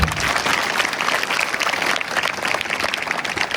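Strong applause from a crowd of villagers, parents and students at a school event in a Marathi village. The clapping is dense and continuous, with an even loudness throughout.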